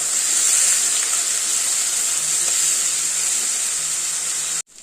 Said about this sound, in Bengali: এবার ওই ছোটো ছোটো আলু কুচিগুলো আছে এর সাথে দিয়ে দেবো দিয়ে সেটা আবার ভাজা ভাজা করে নেব